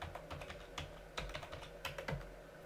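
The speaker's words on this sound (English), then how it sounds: "Type in your password for the local account we had created earlier." A password is typed on a computer keyboard, close and fairly quiet, with uneven bursts of key clicks and a few heavier presses.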